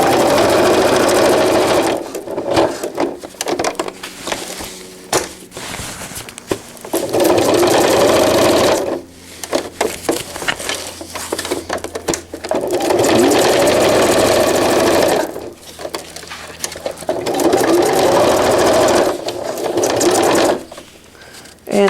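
A sewing machine stitches cloth diaper fabric around curves in loud, close, sustained runs that pause repeatedly for pivoting, with a speaking voice in the gaps.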